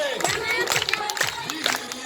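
An audience at a school Republic Day function on 26 January claps and cheers, with a crowd murmuring and voices shouting under scattered bursts of hand claps.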